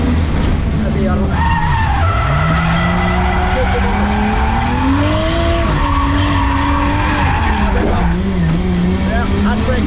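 A race car drifts with long, wavering tire squeals over a loud, continuous engine roar, close up, while voices are faintly heard beneath.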